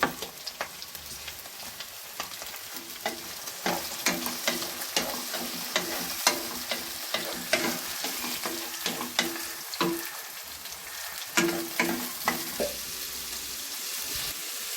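Steady close sizzling of tomatoes frying in a pan for radish sambar, crackling and popping continuously with occasional stirring scrapes, no voices.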